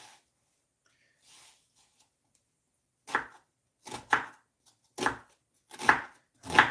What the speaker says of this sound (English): Dicing the onion.